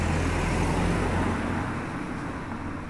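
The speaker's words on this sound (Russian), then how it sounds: "Машина едет и не боится машину." Car driving past on a road, a steady broad rumble that fades slightly as it moves away, with no talk.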